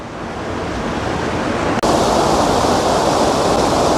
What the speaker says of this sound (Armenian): ջրի ձայնն է խլացնում է, բայց շատ սիրուն է